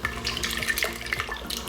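Water from a tap runs and splashes into homemade tomato soup in a pot, a short, steady trickle with a few brighter splashes, close and fairly loud.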